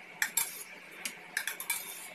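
A spoon stirring soaked almond drink with milk in a cup, a few light clinks and scrapes against the rim in a short quiet burst.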